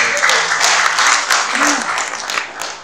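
An audience at a Friday sermon training session claps in continuous, dense applause, loud and close, with a voice speaking over it.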